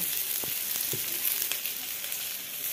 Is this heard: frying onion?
yes